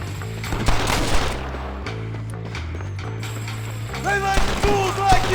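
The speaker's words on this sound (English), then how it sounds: "we'll shoot our way in there." Scattered gunshots crack through a Red Dead Redemption shootout, with clustered bursts near the start and again toward the end over a droning musical score and shouted voices.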